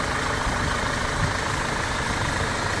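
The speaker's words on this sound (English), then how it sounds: "you can hear it's idling very quietly and smoothly" Audi 2-liter turbocharged four-cylinder in a 2015 A4 Allroad idling, a quiet, smooth and steady low hum with no revving, alone and unbroken throughout.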